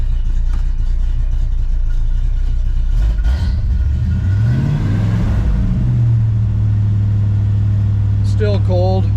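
A cold 1971 Chevelle SS V8 runs on its choke with a steady low idle rumble that rises briefly as if blipped, under someone talking close by.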